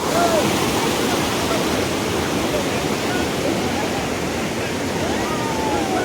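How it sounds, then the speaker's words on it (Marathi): Monsoon water pours over the overflowing Harkul dam in Konkan like a waterfall, a loud, steady, unbroken roar that fills the whole scene, with faint voices barely showing through. "पावसामुळे डॅम ओव्हरफ्लो होऊन त्याचं रूपांतर धबधब्यामध्ये होतं"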